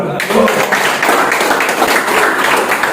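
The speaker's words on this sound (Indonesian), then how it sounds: "Tepuk tangan." A small classroom audience at a university lecture claps hands briefly, a moderate patter of applause heard close by, with voices mixed in.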